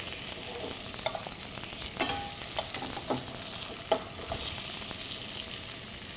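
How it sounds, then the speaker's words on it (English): Salmon fillet searing in a hot pan just after flipping, a continuous close sizzle with a few scattered clicks and scrapes of a utensil, moderately quiet and with no speech. "we're going to go ahead and flip the salmon"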